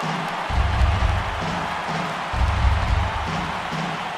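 A large stadium crowd of over 39,000 roars and cheers on their feet in the baseball video game MLB The Show 18, a sustained wash of noise with low rhythmic swells.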